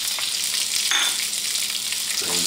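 Onions hitting hot oil with garlic for shrimp creole give a steady, loud sizzle and frying hiss throughout, with a brief stirring scrape partway in and no talking.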